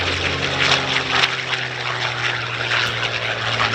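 A P-51D Mustang propeller plane at an air show drones loudly and steadily, its engine roar holding a constant low hum with a broad rushing noise over it, no voices.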